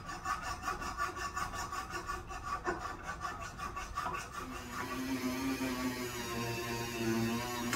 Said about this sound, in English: start sanding this side down and porting this side of the intake